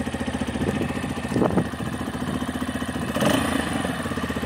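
A Magpower X-Trail motorcycle engine idles with a steady, fairly quiet exhaust pulse, rising in two short throttle blips partway through, close by and with no talking.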